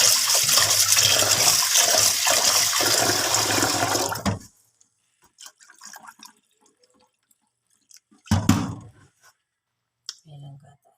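Water left from washing sticky rice is poured onto plants, a loud splashing gush for about four seconds, then near-silence broken by a few soft drips and small clicks.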